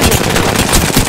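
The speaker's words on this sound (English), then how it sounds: "Opening fire on the enemy." Rapid automatic gunfire in the Apex Legends video game, a loud, dense burst of shots filling the whole moment.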